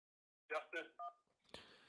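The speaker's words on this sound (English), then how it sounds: "And we're going to go ahead and jump to the phone lines." Telephone dialing tones as a call-in line connects during a live talk show: a few short, clipped tone bursts followed by a sharp click, heard alone without voices.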